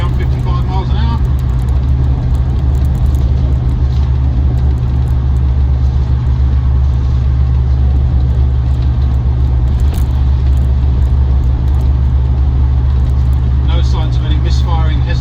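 Interior drone of a restored Land Rover Defender 90 50th Anniversary with a 4.0 V8 and automatic gearbox, cruising near 55 mph in top gear. A loud, steady low engine and road rumble runs throughout, with someone talking over it.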